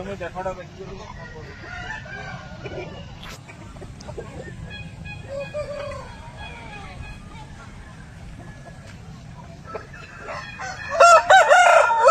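Red Asil rooster kept near a bamboo grove crows loudly and close near the end, after a stretch of quieter clucking and background noise. Someone talks over much of it.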